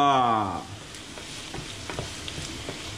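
Pigeon fillets fry and brown in a pan with a steady, close sizzle and crackle, with scattered pops and a short tonal clatter at the very start.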